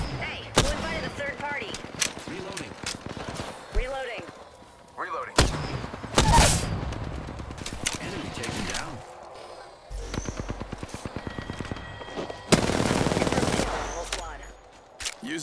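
Video game firefight with rapid automatic gunfire and bursts of shots, heavy booms and impacts, loud and dense throughout, while players talk over the action.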